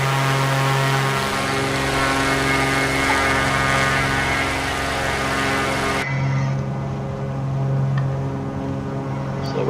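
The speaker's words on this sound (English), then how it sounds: "you can see the aircraft is turning in that" Steady drone of an aircraft engine in Microsoft Flight Simulator, a constant propeller hum with layered tones that shifts partway through and carries on evenly at moderate loudness.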